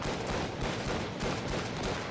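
Sustained rapid gunfire from a gun skill in Palworld, dense and loud throughout with repeated bursts blending into a continuous rattle, no talking.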